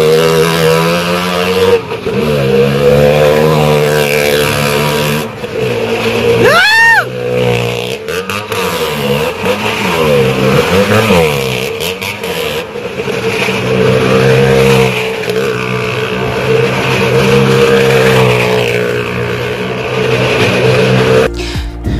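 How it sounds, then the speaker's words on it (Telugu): Motorcycle engine revving hard and continuously during a bike stunt show at an outdoor summer fair, loud and close, with rising and falling pitch sweeps as the rider works the throttle throughout. "ఆ బైక్ సౌండ్తో చూస్తే ఇంకా కిరాకు ఉంటుందని చెప్పి."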